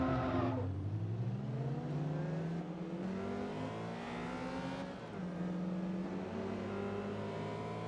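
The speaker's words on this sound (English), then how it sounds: "You can hear it hit VTEC." Revving car engine in Forza Motorsport 2, pitch climbing steadily through the gears with a sharp rise as VTEC engages, loud and continuous with no talk over it.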